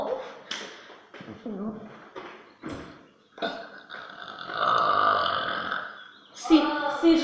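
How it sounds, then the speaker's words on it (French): A loud, long burp rumbles for about two seconds in a home, with French-speaking voices chatting before it and a voice right after. "Si je rote comme ça dérange?"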